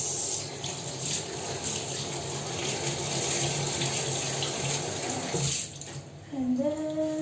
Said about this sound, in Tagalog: But first, we have to wash our hands.